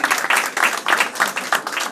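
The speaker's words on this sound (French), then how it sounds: "On peut l'applaudir" Audience applause at an arts festival in Perros-Guirec, a dense, steady patter of many hands clapping together at close range, continuous for the whole stretch with no voices over it.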